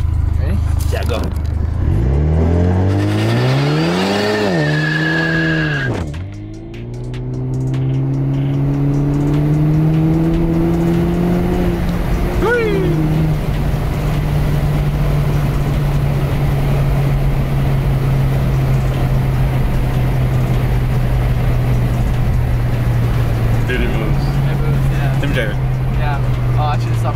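Turbocharged 2.0-liter Cadillac ATS with a Mishimoto intake revs hard, the engine note climbing in pitch, dipping briefly, then rising again before settling into a steady loud drone, with people talking over it.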